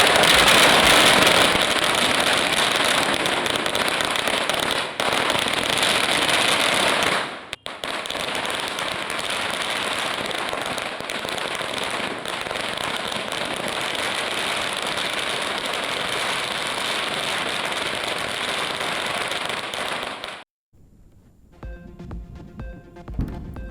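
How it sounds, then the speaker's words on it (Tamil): Firecrackers, including chains of crackers, bursting during Diwali celebrations in Chennai; a dense, loud, continuous crackle of rapid pops for about twenty seconds, with a brief gap near the middle, then fading to quieter scattered sounds at the end. "சரவடி, மத்தாப்பு உள்ளிட்ட வண்ண வண்ண பட்டாசுகளை வெடித்து மகிழும் மக்கள்"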